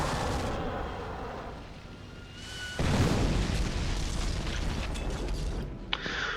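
A 25-pounder artillery shell bursts in Company of Heroes, a sudden broadband boom at about three seconds. A low rumbling aftermath carries on beneath the mechanical battle ambience.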